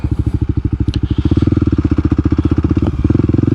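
A Kawasaki KLX300 dual-sport motorcycle on a ride to a quarry, its single-cylinder engine thumping in a fast, steady, close pulse throughout, with a brief clack near the start.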